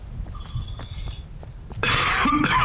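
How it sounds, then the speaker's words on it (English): A single person coughs close to the mic, a short harsh burst near the end following quieter background sounds. "I want to apologize to everyone if you hear me coughing"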